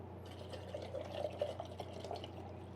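A thin stream of water trickles onto a coffee paper filter to rinse it, soft and close, with light bubbling and dripping over a low steady hum.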